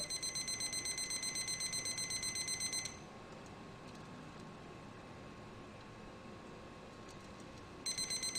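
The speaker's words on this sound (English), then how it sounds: "the alarm went back on" A thermometer's temperature alarm beeps rapidly and continuously for about three seconds, falls silent, then starts beeping again at the end over a quiet hum.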